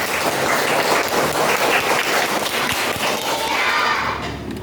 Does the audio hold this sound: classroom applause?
yes